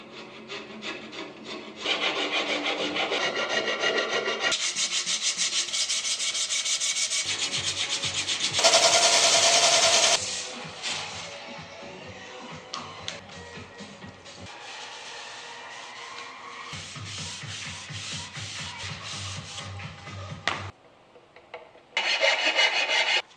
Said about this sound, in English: Obviously I'll have to do some filing and sanding to smooth out the glue I put in this.